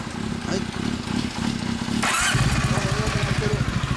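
After a brief burst of noise, a 2008 Kawasaki W650 motorcycle engine fires up and settles into a loud, rapid, crackling idle through an aftermarket BOATRAP muffler. A voice is heard early on.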